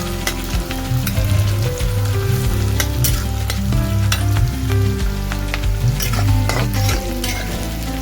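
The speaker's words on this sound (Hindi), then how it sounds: "इनको हल्का हल्का गुलाबी कर लेते हैं प्याजों को।" Onions frying in a pan for a Punjabi-style turnip and spinach dish, a steady loud sizzle with stirring scrapes running continuously throughout, no talking.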